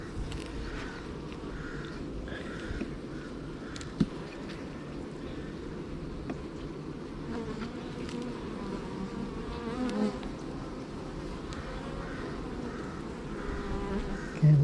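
Honey bees buzz steadily around the hive during a nectar dearth, a soft, continuous drone of many insects at close range with faint background noise.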